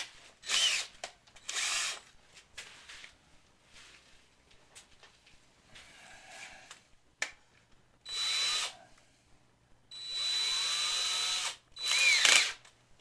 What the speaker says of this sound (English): drill down through these holes.